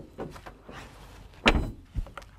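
Rear doors of a Nissan electric car opening, a quiet latch click and a louder clunk followed by a lighter thump, close and isolated.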